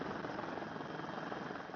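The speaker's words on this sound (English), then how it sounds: "we take off in a Sri Lankan Air Force helicopter from Ratmalana Air Base" A Sri Lankan Air Force helicopter in flight, heard from on board: a steady, loud, dense rotor and engine roar that fills the clip with no pauses.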